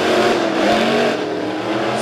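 Dirt track race car engine roaring loud and steady at Springfield Raceway, a dense continuous mechanical drone with no talking.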